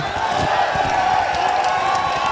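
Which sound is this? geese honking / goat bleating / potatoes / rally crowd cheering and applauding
rally crowd cheering and applauding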